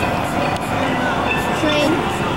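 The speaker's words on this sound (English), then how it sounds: "Train." A steady, loud rumble of a moving train at Walt Disney World, Florida, in 1990 fills the clip, with a constant mechanical drone and faint whining tones throughout.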